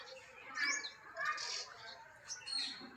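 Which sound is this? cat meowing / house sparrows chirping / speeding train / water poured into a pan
house sparrows chirping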